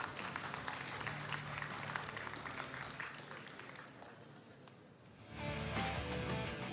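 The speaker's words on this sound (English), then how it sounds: "Please join me in welcoming our esteemed panelists today with a round of applause." Conference audience applauding as panelists are welcomed at the Malaysian Economic Forum 2026 in a large hall, a dense steady clatter that dips briefly and then swells again, heard at a distance.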